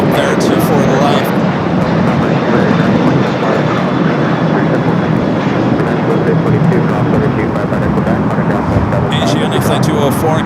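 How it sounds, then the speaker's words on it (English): An Airbus A330neo airliner lines up on runway 24L at LAX with a loud, continuous jet engine roar that stays steady and close; a voice seems to speak faintly beneath the noise. "you got the A330 Neo heading back to Lisbon, lining up there 2-4 left"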